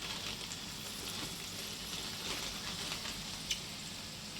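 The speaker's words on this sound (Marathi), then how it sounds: "हे मिक्स करते ना आधी थोडंसं म्हणजे परतून घ्यायचं." Vegetables, peas and urad dal sauté in a hot pan for upma, giving a steady close sizzle and frying hiss with faint stirring scrapes throughout.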